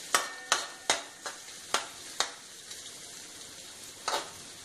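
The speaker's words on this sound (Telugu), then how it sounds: "వెల్లుల్లి తరుగు, అల్లం తరుగు వేసుకుందాం. ఈ కొంచెం 2 నిమిషాలు ఇలా వేయించుకొని" Chopped garlic and ginger fry in a pan with a soft sizzle, broken by a series of sharp, regular clicks of a spoon stirring against the pan, fairly quiet and with no voices.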